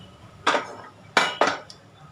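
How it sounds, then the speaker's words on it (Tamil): A pressure cooker lid is opened after steaming sausage buns, giving three sharp metallic clanks with a short ringing tail, close by and otherwise quiet. "குக்கரை ஓப்பன் பண்ணி பார்ப்போம்."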